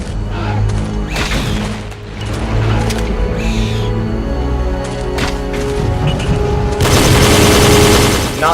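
Rapid bursts of weapon fire in the dinosaur-hunting game Jurassic The Hunted, loud and close, with sharp repeated shots, brief gaps, and a dense noisy blast near the end.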